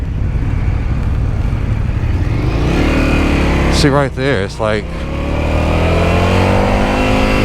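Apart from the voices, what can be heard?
2022 Indian FTR S motorcycle engine revving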